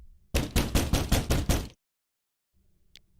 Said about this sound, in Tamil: இந்த கதவு தட்டுற சத்தம் என்னை ரொம்பவே டிஸ்டர்ப் பண்ணுது.